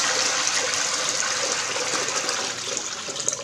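Water pours steadily into a basin with a close, continuous splashing gush that eases slightly toward the end.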